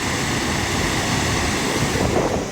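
Swollen floodwaters pour across a bridge in a heavy-rain flood, producing a dense, continuous roar of rushing water with no pauses and no voices.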